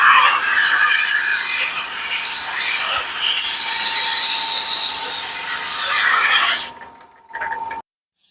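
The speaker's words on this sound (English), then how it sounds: "We're going to finish up our sanding here." A wooden turned knob is sanded, producing loud, close, continuous abrasive rubbing with slight surges that stops abruptly, then a brief final scrape before silence.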